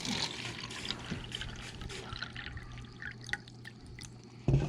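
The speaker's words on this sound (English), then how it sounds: "We're just going to add water to it." Water is poured into a cup for starting sweet potato slips indoors, a quiet trickling and dribbling pour with a few small splashes, ending in a brief louder knock.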